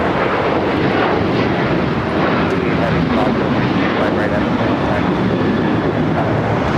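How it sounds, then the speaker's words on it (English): An American Airlines Boeing 737-800 takes off at LAX, bound for Nashville, with a loud, steady broadband engine roar filling the whole stretch while a voice talks over it. "This is American Airlines 1292 taking off to Nashville on the 737-800."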